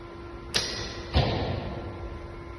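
An arrow released from a traditional Turkish bow, shot from the rear edge with a modified grip: a sharp snap of release followed about half a second later by a duller thud of impact, set against a steady background hum.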